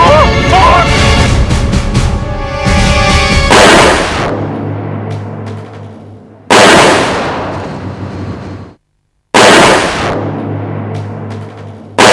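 Several loud gunshots at target practice ring out a few seconds apart, each a sharp crack followed by a long echoing decay.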